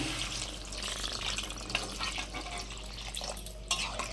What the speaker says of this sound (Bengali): কষানো হয়ে গেছে, এবার দিয়ে দেবো পরিমাণ মতন জল।